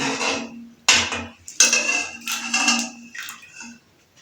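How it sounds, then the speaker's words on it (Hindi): Metal cookware clanks and scrapes up close in a few sharp bursts as a pressure cooker lid is handled and lifted after cooking lobia beans. "अभी हम कुकर को ओपन करते हैं"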